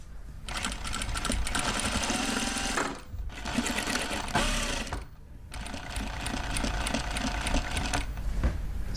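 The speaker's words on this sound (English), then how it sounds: "using a sewing machine to assumably make the clothes he would be selling" A sewing machine runs in three fast, buzzing bursts separated by short pauses, its rapid needle stitching loud and close.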